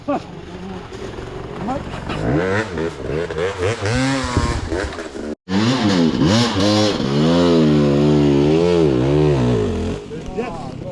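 An enduro minibike engine revs loudly and close, its pitch climbing and falling in repeated surges, with a brief cutout partway through.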